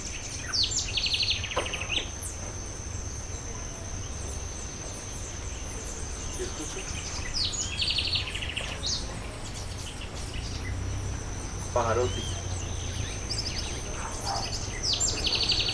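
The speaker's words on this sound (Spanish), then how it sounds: "Y los pajaritos, pues eso sí mantienen para ahí para acá." Small birds chirp and trill in repeated bright calls over steady insect buzzing on a Colombian coffee farm, a continuous outdoor chorus at moderate distance without talk.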